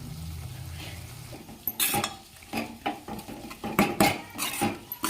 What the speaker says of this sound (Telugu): కారం ఉప్పు కర్రీకి పట్టేలాగా బాగా కలుపుకోవాలి